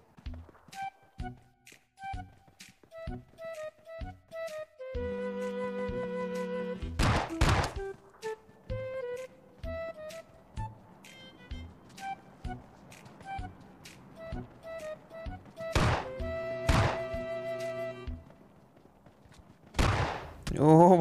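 Shotgun blasts and other gunfire in the mobile battle-royale game PUBG Mobile Lite, with sharp broadband shots recurring through the clip amid game effects and occasional loud bursts toward the end.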